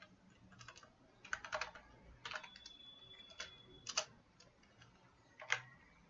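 Programming code is typed on a computer keyboard as soft, close clicks in scattered short bursts, with a few sharper individual keystrokes and pauses between them, and no talking.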